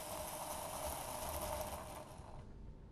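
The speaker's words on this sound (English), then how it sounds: "just hold the engine and let it run" A model locomotive engine runs while held in the hand, its mechanism giving a faint, steady whirring hum that eases off near the end.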